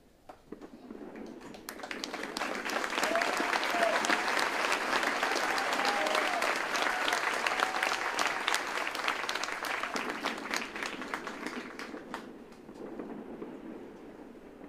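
Audience applause at an Army basic training graduation ceremony at Fort Jackson, a broad, sustained round of many people clapping that rises quickly, holds for several seconds, then tapers off with scattered claps.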